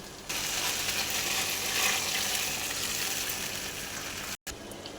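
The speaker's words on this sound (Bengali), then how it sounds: "মশলা ভাজা হয়ে গেছে, এবার আমি জল দিয়ে দিব।" Steady, dense sizzle and hiss as water hits ginger-garlic paste, turmeric and salt frying in a wok for a hilsa and eggplant curry, continuous and close, ending with a brief cut.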